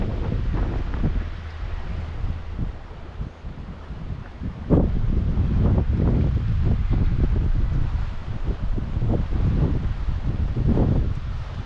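Strong wind blows across a trail in Zion National Park, buffeting the microphone with a loud, continuous low rumble that surges in gusts.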